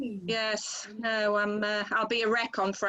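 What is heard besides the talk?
None of the usual background noises is heard.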